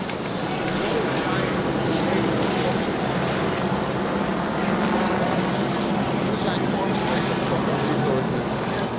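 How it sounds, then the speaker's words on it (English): Several helicopters drone overhead at a protest rally with police, a loud, constant rotor roar that fills the whole stretch, with muffled voices underneath. "There are so many helicopters."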